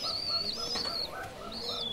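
A male Giribaj pigeon held in the hand, with short soft coos and chirpy calls over a few bright whistling tones nearby, fairly quiet and with no talking.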